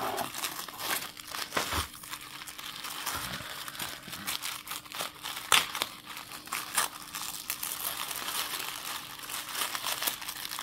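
Close, continuous crinkling and rustling of thin tissue paper, with a few sharper crackles as it is unfolded.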